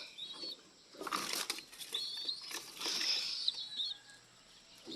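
Pigeons beat their wings in bursts of fluttering flaps at close range, while faint bird chirps come through between the flurries.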